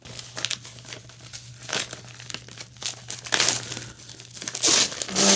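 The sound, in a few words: crinkling bubble wrap while unpacking books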